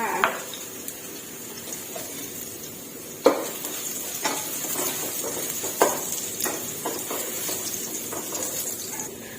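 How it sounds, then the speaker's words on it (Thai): Garlic stir-fried in a pan gives a soft steady sizzle, broken by a few sharp scrapes and clinks of the utensil against the pan at irregular intervals, close but fairly quiet. "วนผัดกระเทียมให้หอมค่ะ"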